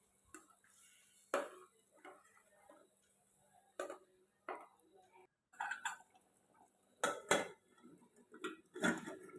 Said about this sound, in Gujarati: હવે આપણે થોડુંક પાણી નાખીને કુકરનું ઢાંકણું બંધ કરી દેશું.